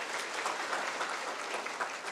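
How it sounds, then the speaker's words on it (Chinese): Steady audience applause at a religious foundation's branch leaders' training session, many hands clapping evenly for about two seconds, fairly soft and diffuse with no talking over it. "我们大家给他大大的掌声啊。"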